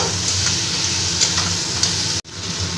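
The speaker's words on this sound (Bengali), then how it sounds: "ভেজে রাখা মাছগুলো দিয়ে মশলার সাথে আমি একটু কষিয়ে নেব" Fried bhetki fish heads being sautéed with spice masala in a pan, a steady loud sizzle with light scraping stirs throughout, briefly cutting out near the end.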